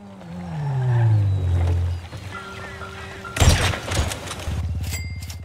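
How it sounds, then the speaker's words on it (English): A grenade blows up in an online shooter game session: a sudden loud broadband blast about midway, followed by a rumbling, crackling tail, with engine-like droning before it and a rapid rattling burst after. "A grenade for celebration"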